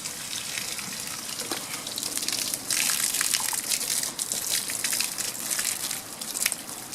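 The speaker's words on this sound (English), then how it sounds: "So I wanted to spray more water on this" Water sprays from a hose outdoors in the rain. A steady, loud hiss and splatter continues throughout, with uneven surges and splashes.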